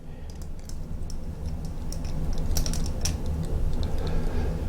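Vintage Lamy 27 fountain pen piston drawing up ink, a steady low mechanical grinding with scattered small clicks and creaks, close and moderately loud, with no voices.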